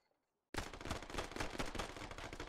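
Rapid bursts of automatic gunfire from the Squad military shooter game erupt suddenly after half a second of near silence, then rattle on loud and dense, with shots layered close together.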